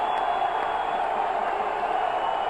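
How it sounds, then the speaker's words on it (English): A football stadium crowd at a college game between Portland State and the Montana Grizzlies in the third quarter, giving off a steady, far-off roar of cheering that holds even and continuous. "momentum clearly on Portland State's side as the crowd really getting into it now"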